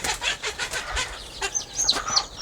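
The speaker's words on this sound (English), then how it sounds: "Got 2 hens in there" Two hens cluck softly in a nest with several chicks tucked under them, a steady run of low clucks joined by thin peeping chirps from the chicks, close by with no talking.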